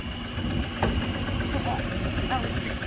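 A 2004 Jeep Liberty Renegade engine with a dropped rocker arm from a collapsed lifter idles steadily and close by, a continuous low rumble with faint ticking, while voices murmur in the background.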